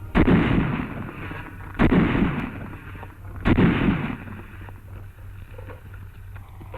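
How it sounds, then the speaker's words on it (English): A Tommy gun fires in three heavy bursts about two seconds apart, loud booming reports with rumbling echo trailing after each, alongside distant battlefield noise. "A Tommy gun."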